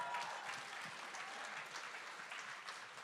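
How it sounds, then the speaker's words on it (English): Audience applause at a conference main stage as a speaker is introduced, a dense, sustained wash of clapping from a large crowd at moderate level. "Round of applause for Joanna."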